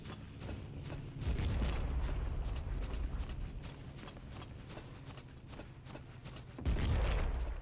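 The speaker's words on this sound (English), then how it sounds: "A lot of machine gun fire," Distant machine-gun fire in the video game Battlefield 1942 rattles in rapid, continuous bursts, with a low rumble swelling now and then beneath the steady clatter.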